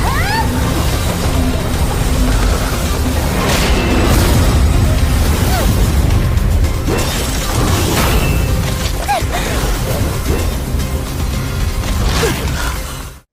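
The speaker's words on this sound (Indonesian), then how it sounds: "mengayunkan palu Hautiannya untuk ke-52 kalinya dan menciptakan ledakan dahsyat yang menghempaskan dua petarung secara bersamaan" An explosive boom from a god's hammer strike in an animated fight, a dense, loud roaring blast that fills the scene and sustains before cutting off abruptly.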